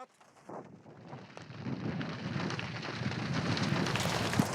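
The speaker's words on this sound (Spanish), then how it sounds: "la lluvia se ha vuelto más fuerte" Rain builds steadily into a dense, heavy downpour, a broad continuous hiss that grows louder over a few seconds, with no voices.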